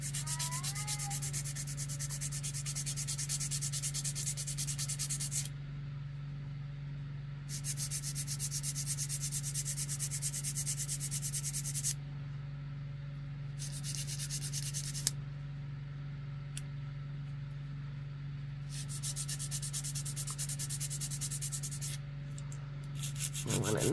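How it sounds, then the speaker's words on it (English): A nail file rasps back and forth in long, steady bursts of scratchy rubbing, broken by short pauses, while a low constant hum runs underneath; close and moderately loud, no talking. "Try not to cut myself with the nail file."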